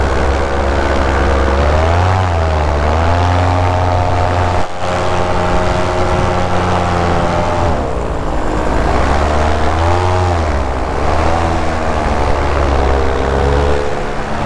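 A paramotor engine and propeller run at full speed in flight, a loud, close, continuous droning roar whose pitch swells and dips in slow waves throughout.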